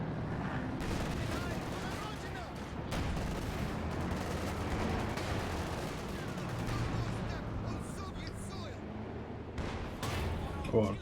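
Sustained gunfire and shelling around a Panzer IV tank in Company of Heroes 2, a steady dense rumble of shots and blasts filling the background with no clear pauses.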